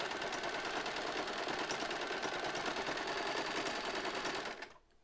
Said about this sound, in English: we begin to sew. Alright, here we go. And back stitch.